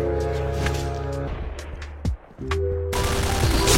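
Bursts of gunfire in a video game shooter, rapid cracks and booms over a droning tonal background, with a short lull before the firing resumes.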